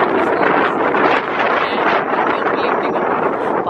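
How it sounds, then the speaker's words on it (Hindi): Strong wind buffets the microphone outside a post office near Basingstoke railway station, a steady loud broadband roar with gusty surges and no pauses. "इतनी हवा चल रही है ना यहाँ पे"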